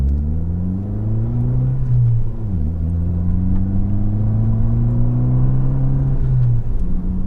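A 2019 Fiat 500 Abarth engine pulls hard from first into second and on to third gear, its rasping note climbing, dipping sharply at the shift around midway, then rising again, loud and close with no talking.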